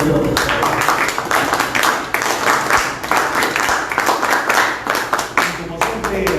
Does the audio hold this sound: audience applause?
yes